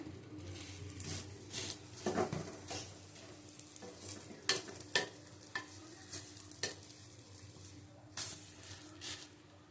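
Egg roti fries in a pan with oil, heard as a soft sizzle broken by repeated scrapes and clinks from stirring and turning. The sounds come in short bursts at a quiet level.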